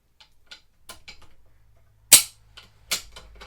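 The trigger of a Remington 700 rifle releases and the firing pin snaps on an unloaded gun during trigger tuning. One sharp, loud metallic click stands out, with faint ticks and handling clicks before and after it.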